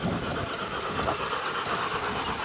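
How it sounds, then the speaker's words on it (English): A G scale miniature railway train runs along its track with a steady, continuous rolling rattle and faint clickety-clack, fairly close and unbroken throughout. "We have just found a miniature railway. It's a G scale railway"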